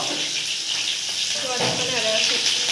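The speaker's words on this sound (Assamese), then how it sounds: "পাঁচফোৰণ দিছোঁ দেই এয়া পিঁয়াজ অলপ ভজা হ'ব" Onions fry in hot oil with five-spice seeds and fenugreek, giving a steady bright sizzle close by that stays even throughout, with a voice speaking briefly over it.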